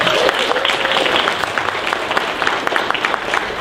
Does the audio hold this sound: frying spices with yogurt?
no